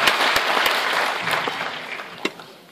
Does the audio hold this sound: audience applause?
yes